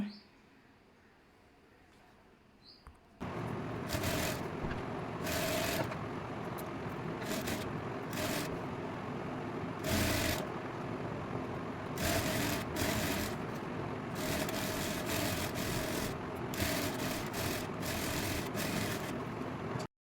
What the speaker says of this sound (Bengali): এখন সাইড বরাবর সেলাই করে নেব।